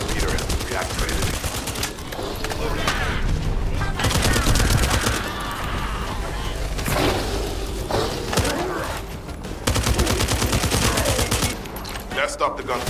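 Rapid bursts of gunfire crackle and rattle continuously in the video game The First Descendant, with sharp volleys and automatic fire over a dense, noisy background.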